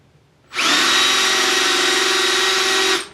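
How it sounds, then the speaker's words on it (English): A drill with a worn, dull bit runs for about two and a half seconds with a steady, high-pitched whine and a rubbing grind, starting and stopping abruptly, close up. "You're kind of getting that high-pitched whine, the rubbing."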